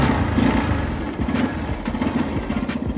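A Hero Xpulse 200 4V motorcycle engine runs close and loud, a steady low throbbing rumble with uneven pulses as the rider sets off, continuous through the moment.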